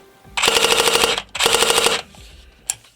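A Cybergun Desert Eagle AEP airsoft replica running on a LiPo battery with a mosfet fires two full-auto bursts of about a second each, a rapid buzzing rattle close by with a brief pause between them, followed by a short click.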